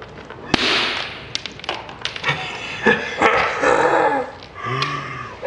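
A dog growls in several rough, uneven bursts close by, broken by sharp taps and brief pauses.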